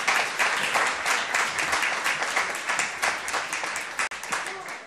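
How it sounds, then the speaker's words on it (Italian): An audience at an Italian book presentation applauds steadily, a dense, fairly loud wash of clapping that runs for several seconds before tapering. "Potete anche applaudirla anche lei."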